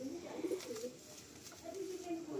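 Male pigeon cooing in soft low repeated phrases close by, a large full-grown bird, with faint background noise around it.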